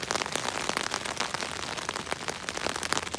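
Rain patters densely and evenly on the fabric of an REI Quarter Dome SL1 tent, a close, continuous drumming of many drops with no voices.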